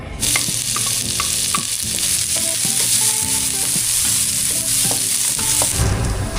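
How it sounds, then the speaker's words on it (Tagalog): Garlic, onion and ginger sautéing in a little cooking oil, a loud, close, steady sizzle and fry with stirring scrapes, with faint background tones but no voices. "Gisa na po natin yung ating bawang sibuyas at luya."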